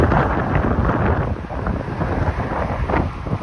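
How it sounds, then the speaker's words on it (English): Strong wind buffets the microphone in loud, rumbling gusts that swell and ease, with no voices. "Wow, it's quite windy out."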